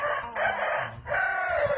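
A rooster crows nearby, a loud, drawn-out call broken into two strained, wavering bursts.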